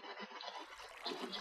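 Water scooped with a bucket in Minecraft Skyblock gives a short liquid slosh and gurgle, quiet and close, lasting about a second and a half with no talking.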